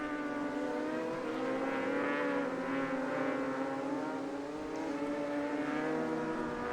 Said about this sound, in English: He's a half a second faster than Corey Alexander that last lap on a Kawasaki.